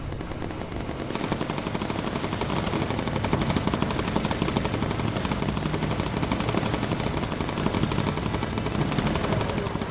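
Continuous rapid machine gun fire from bomber gunners in the World War II game Bomber Crew, loud, dense bursts that blend into a steady rattle engaging an ME-262 jet with incendiary ammunition.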